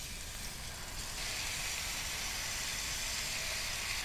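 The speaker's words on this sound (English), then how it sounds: "As you can tell, it's sizzling a little bit." Swiss steak cooking in a pan gives off a steady, soft sizzle and hiss that swells slightly after the first second, quiet and continuous with no voices.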